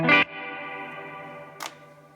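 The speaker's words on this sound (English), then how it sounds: "Then I've got a plate reverb with a bit of modulation." Electric guitar through a pedalboard with plate reverb and light modulation: a strummed chord rings out and decays into a long shimmering wash, with a second soft pick attack near the end, no voices.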